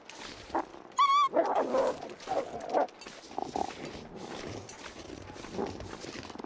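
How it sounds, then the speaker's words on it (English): Wolves snarl and growl in The Long Dark, a rough, close growling burst after a brief high whine, then quieter grumbling snarls trailing off over a low background. "I keep hearing growling."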